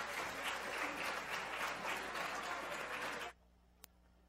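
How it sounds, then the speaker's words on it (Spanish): An audience at a Christmas concert claps warmly and steadily for the performers, a dense wash of applause that stops abruptly near the end, leaving near silence with a single small click. "Fuerte el aplauso para todos nuestros artistas."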